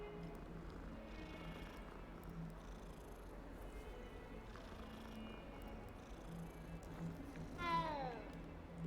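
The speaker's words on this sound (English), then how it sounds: "Kitty cat." A cat purrs and meows in the game Hogwarts Legacy, a soft low purr running throughout with a brief rising meow near the end, over quiet game ambience.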